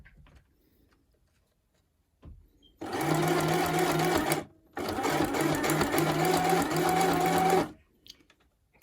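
A sewing machine runs a zigzag stitch to fix elastic onto a cloth mask, in two steady, loud bursts split by a short pause, with soft pigeon-like cooing nearby.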